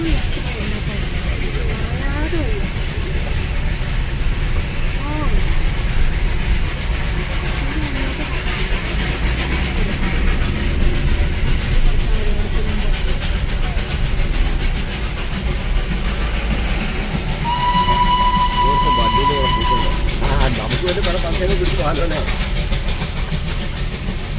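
A train passes along a road, a loud continuous rumble of wheels and engine close by, with a brief horn-like tone near the end and people talking over it.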